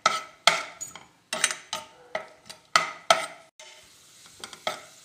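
Tomatoes being fried in a pan for a sweet biryani side dish, a series of sharp utensil scrapes and stirring knocks in an uneven rhythm, close and clear with little sizzle beneath.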